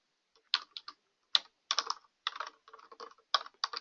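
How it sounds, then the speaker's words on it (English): Keys clatter on a computer keyboard in quick clusters of taps separated by brief pauses as a web address is typed, close and fairly quiet against a silent background. "I'm going to type this in"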